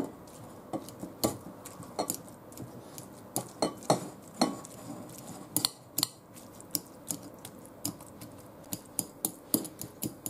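Ingredients for coconut pastries being mashed in a bowl, a run of irregular sharp taps and scrapes of a utensil against the dish, quiet and close with no talking.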